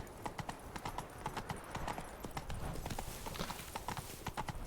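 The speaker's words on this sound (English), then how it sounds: "Pena que o cavalo não corre aqui dentro." Horse hooves clip-clop at a steady walking pace in The Witcher 3 video game, a close, continuous rhythm of hoof strikes with faint background ambience.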